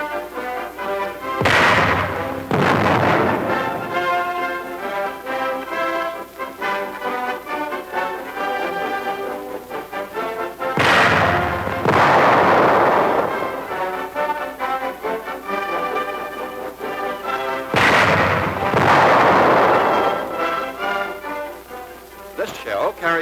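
A 1942 US Army 4.2-inch chemical mortar fires high explosive shells, three heavy booming blasts spaced several seconds apart, with someone narrating over a music score throughout.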